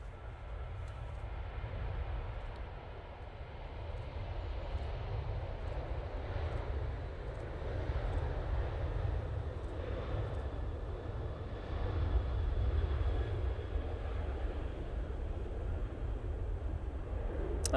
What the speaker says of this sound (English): Ryanair 737-800.